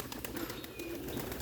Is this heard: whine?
no